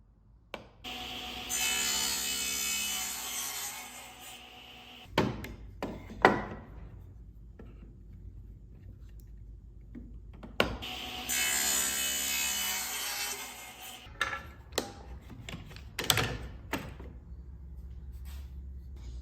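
Table saw cutting mortises in wooden table legs held on a jig, two long bursts of whining blade noise separated by quieter pauses with knocks and handling sounds, close and fairly loud.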